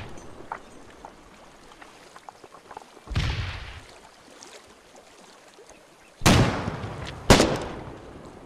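Frag grenades explode in the war game Foxhole: three sharp, loud blasts, the first alone and the last two close together, each with a short rumbling tail against a quiet background of faint ambient noise.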